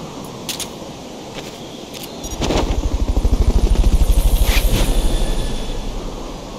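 A helicopter in the video game Metal Gear Solid: Peace Walker, its rotor building into a loud, rapid rhythmic chop that holds steady for several seconds before easing off slightly.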